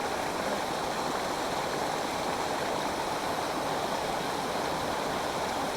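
A mountain stream in Germany pours steadily and loudly, broadband rushing water flowing without pause from start to finish; no one speaks.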